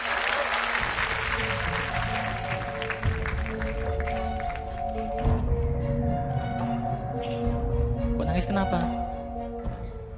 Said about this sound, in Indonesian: kita berikan tepuk tangan sekali lagi untuk pertunjukan yang luar biasa